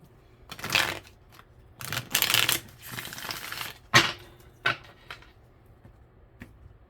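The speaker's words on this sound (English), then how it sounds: "We got like kind of a chunky, clunky shuffle going on here." A deck of tarot cards being shuffled by hand in chunky, uneven bursts, close and crisp, with riffles and soft clacks separated by brief pauses and no talking.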